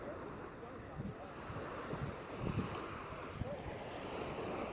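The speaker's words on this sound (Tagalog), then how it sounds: "nandito na ako ngayon sa beach part" Waves washing onto a beach, a faint continuous surf rumble with light wind buffeting the microphone and no talking.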